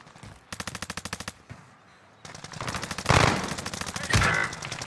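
Rapid bursts of automatic gunfire from a Call of Duty Resurgence match, with short rattling volleys, a pause, then a longer, louder stretch of sustained shooting.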